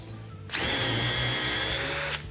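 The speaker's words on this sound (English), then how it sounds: "And now just do a normal drill." A Dewalt DCF860 impact driver whirs at close range for about a second and a half in normal drill mode, starting and stopping abruptly over a quiet background hum.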